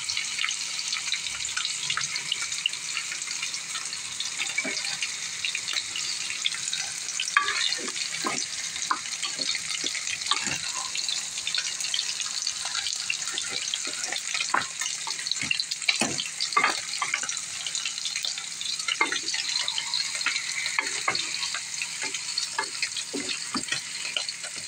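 Meat fries in cooked spice paste with a constant bright hiss, interrupted throughout by irregular spatters, pops and utensil clicks at close range, and no one speaking.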